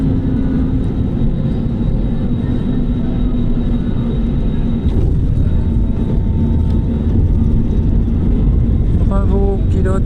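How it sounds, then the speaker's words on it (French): Airliner touching down on a Balearic Islands runway, heard from inside the cabin as a loud, steady engine and airframe roar with a tonal hum, shifting in character midway as the landing proceeds. "Landing, on atterrit"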